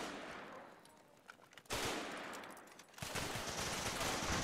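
Dense bursts of in-game gunfire from the World War II Pacific shooter Running With Rifles: Pacific Theater, with scattered shots building into sustained, loud automatic fire over the last few seconds, no voices.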